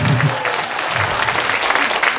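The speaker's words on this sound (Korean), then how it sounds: "다시 한번 박수 한번 부탁드릴게요." An outdoor crowd at a comedy dance performance gives loud, sustained applause, a dense wash of clapping throughout with faint voices beneath.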